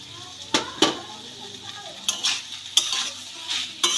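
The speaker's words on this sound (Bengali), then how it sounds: "ধনে পাতা দিয়ে খুব ভালো করে মিশিয়ে নেড়ে চেড়ে নামিয়ে নেব" A cooking mixture with chopped coriander leaves is stirred in a pan, giving sharp intermittent clinks and scrapes of a utensil against the pan over a faint sizzle.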